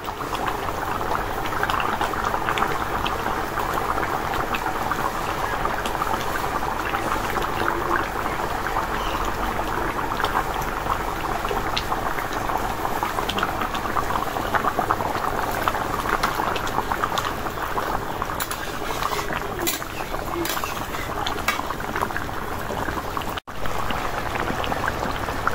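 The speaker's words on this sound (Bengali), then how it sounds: "টমেটোটা আলুর সাথে একটু ভেজে নিচ্ছি" A pan of tomato and potato curry bubbles and sizzles steadily on the stove, the tomato melted into a thickening gravy, a dense continuous simmer heard up close with no voices.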